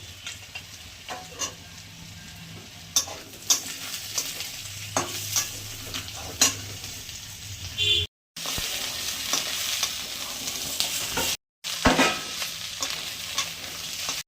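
Capsicum stir-fried in a pan for egg chilli, with a steady sizzle and repeated scraping strokes of a spatula throughout, briefly cut to silence twice near the end.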